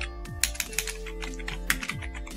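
Typing on a computer keyboard while entering table entries in MS Word, with a steady run of close, crisp key clicks and several sharper, louder keystrokes such as the Tab key.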